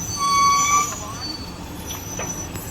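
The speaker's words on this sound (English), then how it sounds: "Because of my trash truck going by, I apologize for the noise" A garbage truck rumbles past close by, its loud low engine noise swelling briefly and then easing, with a squealing brake-like whine.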